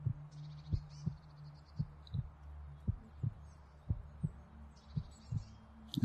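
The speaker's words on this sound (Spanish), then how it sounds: "Nos conectamos con el sonido del corazón. Sentimos sus latidos." Steady heartbeat played during a guided meditation, soft low paired thumps repeating at an even, slow pace throughout, faint and alone with a light airy hum and distant chirps above it.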